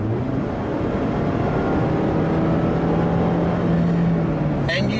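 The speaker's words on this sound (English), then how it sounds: "And you do want to wring this engine out. You do feel that power up towards red line." A 2020 Mazda MX-5 Miata RF with the revised 2019 engine, held in manual mode, revs toward its 7,500 rpm redline. The loud, steady engine drone climbs gradually in pitch and runs continuously throughout.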